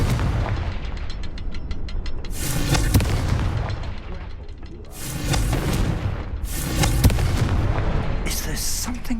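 Loud booming fire-spell explosions from Hogwarts Legacy, with several heavy blasts and crackling bursts in a row over a low rumbling game backdrop.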